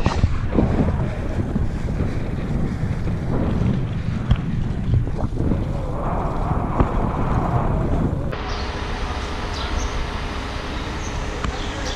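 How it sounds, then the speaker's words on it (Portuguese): A moderate headwind buffets the microphone of a cyclist riding a touring bike on the road near Barreiras, Bahia, as a constant rough roar of wind that steps down slightly in level toward the end. "O vento, tem vento contra, mas não tá tão forte."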